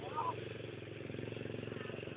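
Someone's motorcycle runs with a steady, rhythmic engine pulse throughout, heard close while riding in the dark, with voices talking over it.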